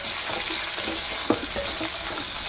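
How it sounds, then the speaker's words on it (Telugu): Green chillies frying in a pan for hotel-style tomato chutney, a loud continuous hiss of hot oil with a few brief clicks of stirring over it. "పచ్చిమిర్చి వేయించుకోవాలి"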